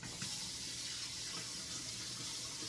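Tap water running into a kitchen sink as hands are rinsed, a faint steady splashing hiss throughout with no voices.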